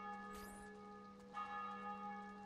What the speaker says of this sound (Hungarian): Oh, harangoztak, ez az.